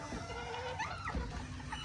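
Chickens cluck softly in a coop alongside a rooster of a supposed Tony Treadwell line, low murmuring fowl calls overlapping against steady background noise, close by with no talk.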